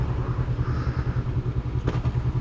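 A Honda CBR 500R motorcycle engine runs with a steady rhythmic throb while ridden, loud and close, with a brief clatter near the end and no speech.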